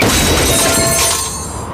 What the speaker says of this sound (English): This is the sound of a brand new outdoor grill being hurled off a 20-story building.